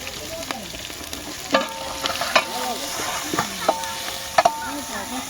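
A ladle stirs Rajasthani dal in a pot over an open fire outdoors on a farm, with steady scraping and clacking strokes over a constant sizzle and a few sharp knocks against the pot's rim.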